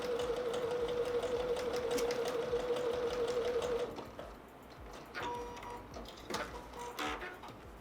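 A sewing machine stitches patchwork fabric for a Shoofly quilt block in a steady, close whir for about four seconds, then stops, leaving quieter handling sounds and light clicks.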